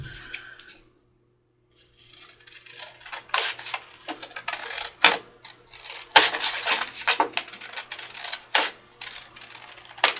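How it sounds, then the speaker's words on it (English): Scissors cutting through paper along a drawn line for a pocket, a series of sharp, close snips and crisp rustles after a brief pause, irregular in rhythm. "I'm just going to cut that with my scissors"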